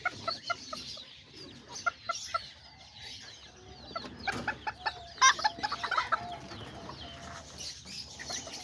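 A small rooster and a hen penned together cluck in short, repeated bursts, fairly close and moderately quiet, with a few louder calls and some wing rustling.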